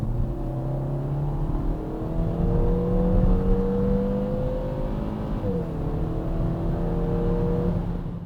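A 2020 Kia Forte 5 GT engine revs up hard and climbs steadily in pitch through the gears, with a brief dip at a gear change, loud and close throughout.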